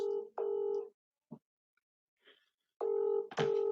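A phone line rings out in two long electronic ring bursts with silent gaps between, plus a few faint clicks.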